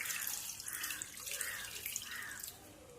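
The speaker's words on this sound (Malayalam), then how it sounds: "ഇനി നമ്മൾ അതിനകത്തേക്ക് കുറച്ച് നല്ല തണുത്ത വെള്ളം കൂടി ഒഴിച്ചു കൊടുക്കുന്നുണ്ട്." Cold water poured into a mixer jar holding fresh milk cream, a steady bright splashing trickle that runs alone for the whole moment without voices.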